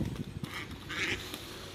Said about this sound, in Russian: опять драка среди селезней за уточку.